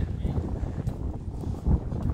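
Strong wind buffets the microphone outside Chartres Cathedral, gusting in low, uneven rumbles over a brief stretch.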